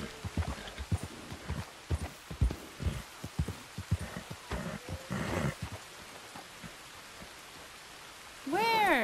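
Horse hooves in the Red Dead Redemption 2 video game, a steady run of clip-clop beats at moderate loudness, with a rising, wavering cry near the end.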